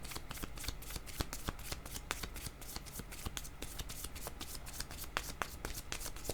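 Tarot cards being shuffled continuously at close range, a steady riffle of crisp paper flutters and soft slaps with no voices.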